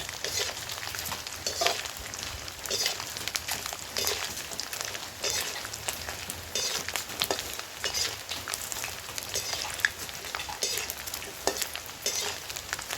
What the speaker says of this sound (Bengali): দেখুন, এইভাবে নারকেলটা ভেজে নেব।